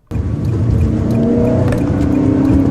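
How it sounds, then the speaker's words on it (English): A car engine hums steadily and loud, with a rising tone as it pulls away and accelerates through the gears. "But I did want you to hear it go through the gears."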